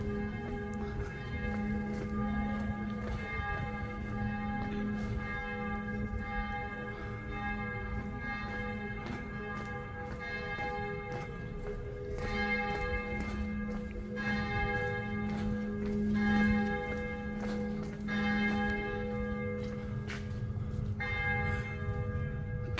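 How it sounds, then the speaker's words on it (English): Church bells ring out across Jerusalem in a layered, sustained peal, several bells tolling and overlapping with a long ringing resonance, heard at a moderate distance with faint ambient noise beneath. "Can you hear the bells?"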